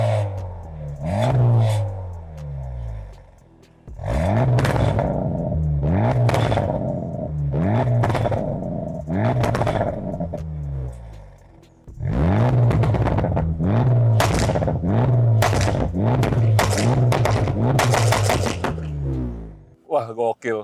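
Honda Civic Type R FL5 with a full exhaust idling, throwing out repeated loud pops and crackles in bursts, with short pauses between groups and a voice speaking over it.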